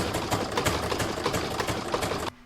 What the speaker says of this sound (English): I'm now going to pop that in my machine and stitch round number 7